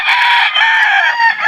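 A gamecock rooster crows loudly and close by in one sustained, slightly wavering call that fills the whole short stretch.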